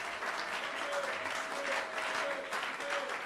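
A church congregation at a Sunday service applauds steadily to acclaim the Lord, a dense, continuous wash of clapping from a full room with a faint sustained tone beneath it.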